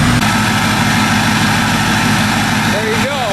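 A 2005 Ford F250 Lariat's 6.0 Powerstroke diesel idles after a cold start following six months of sitting, a loud, close, steady chugging rumble with a rhythmic knock, while a voice talks briefly near the end.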